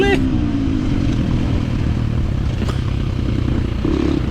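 A 2023 KTM 350 XC-F dirt bike engine holds a loud, steady drone during a wheelie at a hare scramble race, with a light scrape partway through and the pitch jumping near the end.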